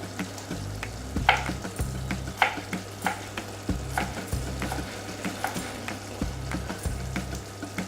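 Garlic sizzles in a hot pan with potatoes, a steady close frying hiss broken by sharp clicks and scrapes of stirring, with a low hum underneath.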